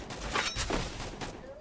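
Gunfire in a video game comes in several sharp bursts of shots spread across the moment, fairly loud, with a busy noisy background.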